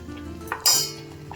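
Spoon clinks and scrapes against a pot while payesh, a Bengali rice pudding with cardamom, is stirred, with one sharper metallic clank in the middle and soft scraping around it, close by.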